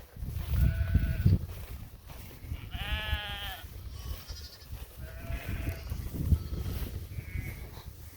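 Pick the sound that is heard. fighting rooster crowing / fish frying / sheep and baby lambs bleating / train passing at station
sheep and baby lambs bleating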